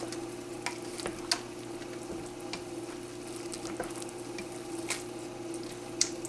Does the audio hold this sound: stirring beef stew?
yes